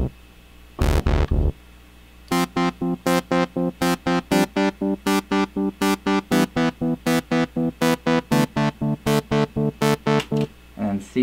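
Synth notes fed through a delay with a filter applied, a broadband burst then a long run of evenly spaced repeating pulses that keep a steady rhythm before cutting off near the end.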